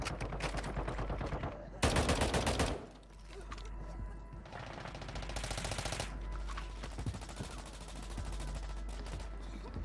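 M4 rifle fire in the video game Warzone Mobile: fast automatic bursts, one loud and close, another longer and steadier, over continuous in-game rumble and mechanical clicks.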